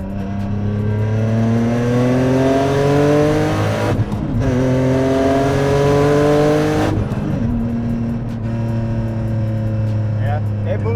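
A Nissan 370Z on pump gas accelerates hard through the gears, its engine note climbing loudly in pitch with a brief drop at each shift, then settling into a cruising drone with faint talk underneath.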